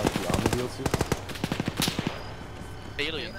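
Rapid bursts of enemy automatic gunfire in the military shooter Arma 3, a string of sharp cracks in quick succession, fairly close and loud, with a voice briefly heard near the end.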